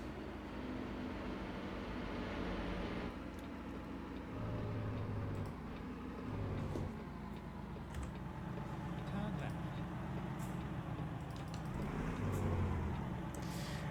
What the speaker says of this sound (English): these trucks sound so good now